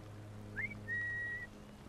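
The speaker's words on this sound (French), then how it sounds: "Je te siffle, viens!" A character whistles to lure an enemy in Assassin's Creed Syndicate: a short rising whistle, then a longer steady whistled tone, clear over low game background hum.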